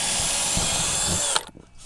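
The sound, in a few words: power drill drilling hole through board into router table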